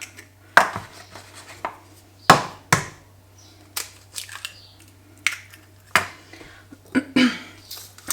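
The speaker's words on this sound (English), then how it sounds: "I'm going to go in and crack it in the full eggs" Three whole eggs are cracked against a hard edge into a well of flour for fresh spaghetti dough, making several sharp, close knocks and crunches spaced irregularly, with soft handling noises between them and no talking.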